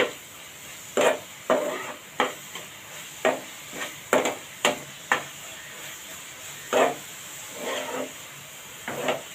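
A spoon scrapes and stirs patoli filling of grated coconut, jaggery and dry fruits as it roasts dry in a pan, in a run of distinct, fairly close scraping strokes, some soft and muffled, with no talk.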